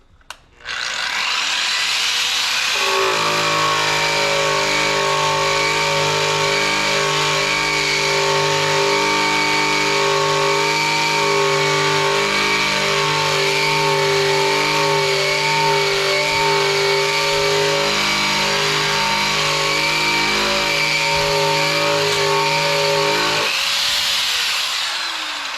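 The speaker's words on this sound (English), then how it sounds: "let's go back over the wire wheel and see if we can get rid of all this like stuff that's thick on there" A wire wheel grinds thick coating off a truck suspension part: a loud, steady mechanical whine with strong harmonic tones that holds for about twenty seconds after a brief start, then cuts off near the end.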